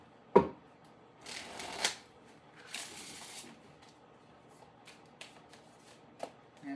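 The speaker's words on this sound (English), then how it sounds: "One more shuffle." A few separate bursts of tarot cards being shuffled up close, brief riffles split by quiet pauses, with a light tap or two near the end.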